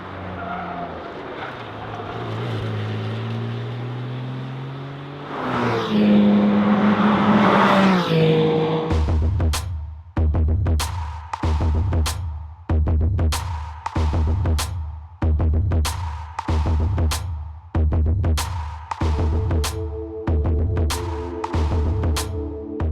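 A Porsche 718 Cayman GT4 with a naturally aspirated flat-six runs on a racetrack in Scotland: a loud, rising engine roar gives way to a rapid series of sharp, evenly spaced bursts and revs that carry through to the end.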